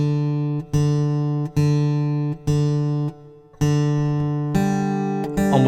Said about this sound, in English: So you just want a light pluck.